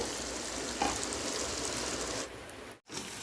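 Small idli-batter bondas fry in hot oil over a medium flame, giving a steady close sizzle that runs throughout and dips briefly near the end.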